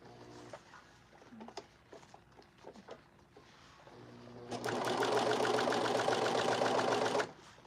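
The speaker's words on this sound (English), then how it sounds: "the serger is just going to keep cutting off that extra fabric as we go" A serger sewing machine trims excess fabric while a jacket purse is sewn; light handling clicks come first, then a loud, rapid mechanical whirring runs steadily for about three seconds before stopping abruptly.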